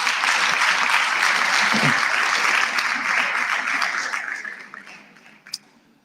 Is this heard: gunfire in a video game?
no